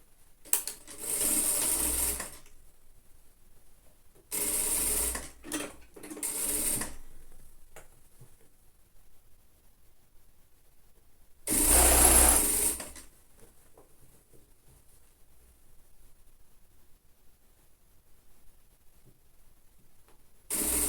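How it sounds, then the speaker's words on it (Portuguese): A sewing machine stitches the hem of a child's lined coat in short bursts, three quick runs and a longer one separated by quiet pauses, close and clear. "Vou passar a costura, então, aqui na barra do casaco"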